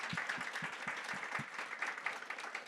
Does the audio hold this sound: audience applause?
yes